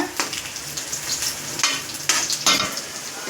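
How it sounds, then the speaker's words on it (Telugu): Tamarind frying in oil: close, bright sizzle with several sharp bursts as something is stirred or dropped into the pan. "కొంచెం చింతపండును కూడా ఫ్రై చేసుకుందాం"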